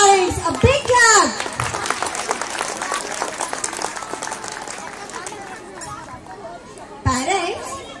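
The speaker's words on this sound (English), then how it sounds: "Give a round of applause, Tarins. A big clap." At a school event, an audience of students and parents claps in a scattered, rapid patter beneath excited children's chatter and a loud amplified voice at the start and near the end.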